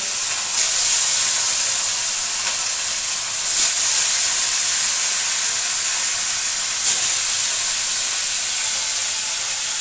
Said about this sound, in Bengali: এই যে মাছগুলো এখন ভেজে নিই ভালো করে